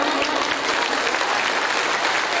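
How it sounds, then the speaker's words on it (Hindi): A loud, sustained burst of applause from a seated audience at a Gita Ramayan satsang gathering, dense clapping filling the space without any speech. "हम जोर से ताली बजाएंगे एक बार।"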